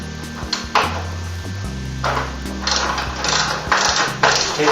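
A socket ratchet loosens the 9/16 wheel nut on a lawn mower wheel, giving a few close, sharp metallic clicks and clanks in short bursts with brief pauses between them.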